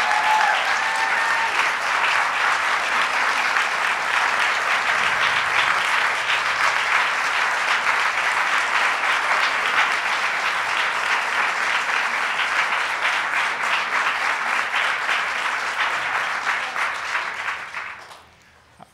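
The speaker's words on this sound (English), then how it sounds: "Let's give Sarah a big round of applause." Long, dense applause from a large audience honoring the lawyer who argued Roe v. Wade at a governor's bill signing on reproductive rights, a loud continuous roar of clapping that holds steady before fading out near the end.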